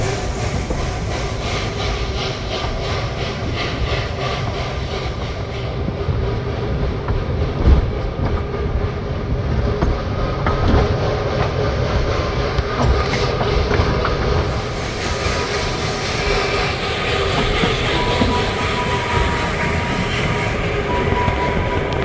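Steam train of the Mocanita forest railway at Viseu de Sus, Maramures, rolling along with a constant loud rumble and rhythmic clatter of wheels on track, close and continuous for over twenty seconds, no talk.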